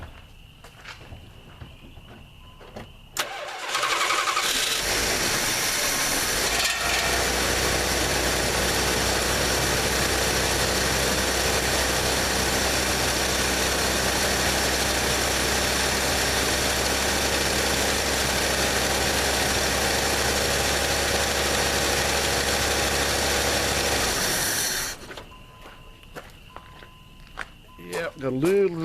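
A 1987 Plymouth Gran Fury V8 with a Lean Burn carburetor setup cranks and catches after a few seconds, then idles loud and steady for about twenty seconds before shutting off, with wind buffeting the microphone.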